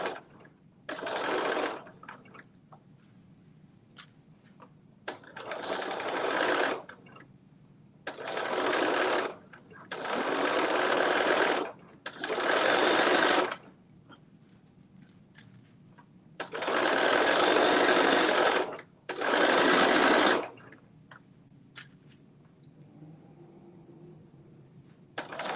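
A sewing machine runs in about seven separate bursts, each lasting one to two seconds, with short quiet pauses between them; the whirring stitching sound is close and clear.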